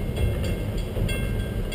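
A heritage train rolls steadily past, a dense low rumble of wheels on rail with faint rhythmic clicks, close and continuous with no voices.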